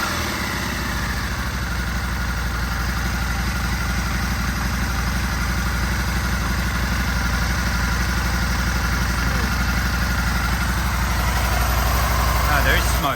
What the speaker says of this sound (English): Give it a bit of rev. Give it a quick rev.